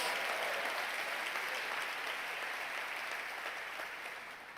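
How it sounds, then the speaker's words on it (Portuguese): A church congregation applauding during a Brazilian Portuguese evangelical service, a steady wash of many hands clapping at a distance that slowly fades toward the end. "Dá uma salva de palmas ao Senhor."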